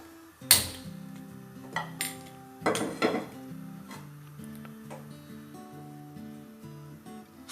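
Urad dal rattles in a metal pan on the stove for murukku, starting with a sharp pour and clatter, then intermittent clinks and scrapes as a spoon stirs the roasting lentils, close and without speech.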